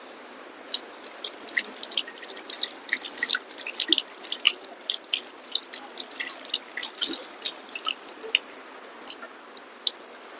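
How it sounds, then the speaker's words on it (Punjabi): Water from a tap drips and splashes as hands are washed at a gurdwara in Ludhiana, a steady stream of small wet patters and squishes at moderate volume. "ਹੱਥ ਧੋ ਲਵਾਂ"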